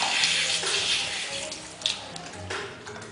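Water runs steadily from a drinking system for pigs, a close, continuous splashing flow with a few louder gurgles and drips over it.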